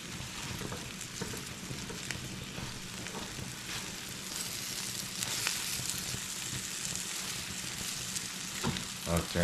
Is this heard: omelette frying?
yes